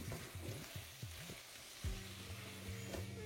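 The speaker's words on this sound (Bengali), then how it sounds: "এবার পেঁয়াজের সাথে আলুটাকে ভালো করে ফ্রাই করে নিন" Cut potatoes fry with onions in a pan for a ridge gourd, potato and prawn curry. A quiet, steady sizzle plays under low, humming scrapes of stirring.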